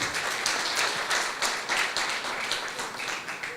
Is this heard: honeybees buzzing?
no